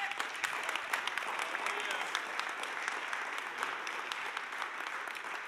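A church congregation at a Sunday service applauds, with dense, continuous hand-clapping that holds at an even level throughout.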